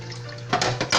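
Shrimp shells being rinsed under running water for a sour shrimp soup stock, with short splashing bursts of water close by in the second half.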